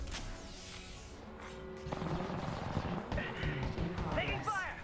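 Scattered gunshots and impacts in a battle royale video game, fairly quiet and intermittent, mixed with game voice lines and other action noise.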